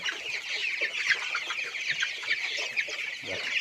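Broiler chickens, eighteen days old, cluck and chatter nonstop in a dense, overlapping flock on a poultry farm, with many birds calling at once at a steady, fairly close level.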